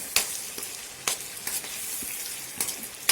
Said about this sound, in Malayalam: ഇതേ ഓയിലിൽ തന്നെയാണ് നമ്മുടെ ഉള്ളിയും എല്ലാം വാട്ടിയെടുക്കേണ്ടത്.